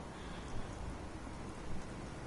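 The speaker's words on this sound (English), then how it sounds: "look, it's raining, it's gloomy." Steady rain hisses as broadband wash in the Fallout 4 video game on PS4, soft and continuous with faint low rumbles and no voices.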